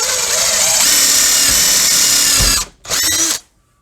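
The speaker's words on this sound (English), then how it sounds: "So I'll just put a little bit more power into it and then drill that out." A power drill bores a hole for a home security fitting, a loud high-pitched whirring grind that runs steadily, stops briefly, then whirs again before cutting off to quiet.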